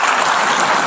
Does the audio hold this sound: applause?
yes